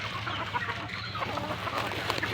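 Gamefowl hens, battle-cross breeders, clucking together in a flock at close range, with steady overlapping clucks over a low background hum.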